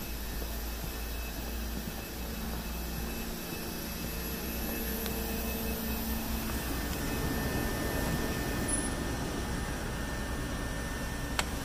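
Diesel heater on a 2021–2022 Winnebago Revel camper van runs under the running board with its exhaust, giving a steady, even droning hum and rush of air that holds unchanged throughout, with no speech.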